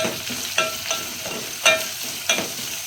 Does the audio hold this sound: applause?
no